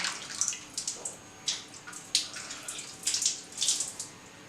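Plain water is splashed onto a face from a running tap in soft, uneven bursts before washing, close and quiet, with no talking.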